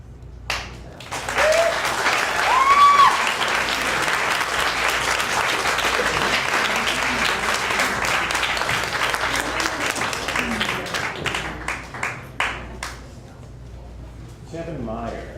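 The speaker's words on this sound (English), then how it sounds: "Now we have to applaud for everybody." An audience at a literary reading event bursts into sustained applause, dense clapping that swells and holds for several seconds before thinning into scattered claps, with voices murmuring underneath.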